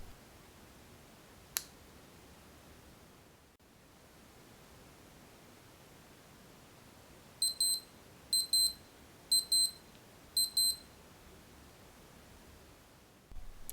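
A Casio LF-20W digital watch alarm sounds four short bursts of rapid high-pitched beeps at even intervals, crisp and close against near silence.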